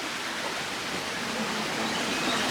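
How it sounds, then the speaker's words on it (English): A waterfall at the Bronx Zoo gives a steady, full rushing roar that fills the whole moment with no break and no voices. "They got some waterfalls over here."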